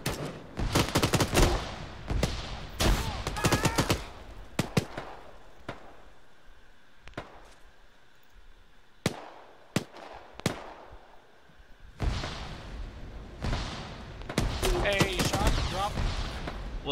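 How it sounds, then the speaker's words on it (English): Bursts of gunfire from shooters in a squad battle, sharp repeated cracks in rapid clusters and scattered single shots, some close and loud, others more distant, with a voice talking between volleys. "Where the fuck even are these guys that are shooting at us?"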